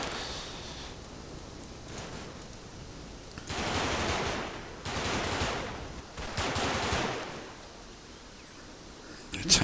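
Machine gun fire in the WWII game Combat Mission: Market Garden, three sustained bursts of rattling automatic fire at mid distance over a constant noisy background.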